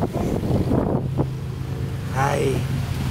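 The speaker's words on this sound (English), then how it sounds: "we're under this bridge right now, so it's like a wind tunnel under here" Steady wind rushes and buffets the microphone beneath a bridge outdoors, a constant loud roar with low rumble throughout.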